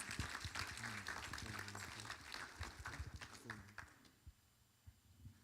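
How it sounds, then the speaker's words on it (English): Audience applause at a panel discussion greets the panelists, a dense wash of clapping with some voices mixed in that gradually thins out into a few scattered claps. "let's give our panelists a welcome and a round of applause"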